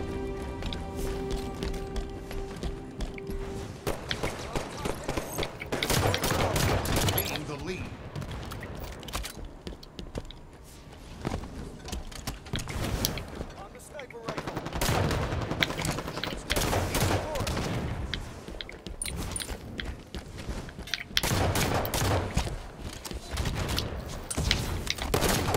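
Gunfire in a Halo 5 multiplayer slayer match rattles in repeated bursts of rapid shots, with running footsteps and scattered impacts, over a continuous background of game sound at moderate loudness.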